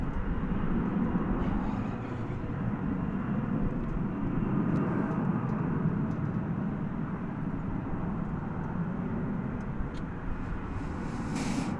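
An American Airlines Airbus A321 at night at DFW airport gives a steady, moderately loud jet engine roar that holds evenly throughout, with no talking.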